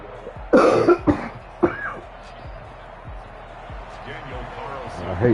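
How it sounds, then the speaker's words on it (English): A man lets out a few harsh, close coughs in quick succession early on, followed by quieter background voices and game sounds. "I hate coughing, boy. I cough,"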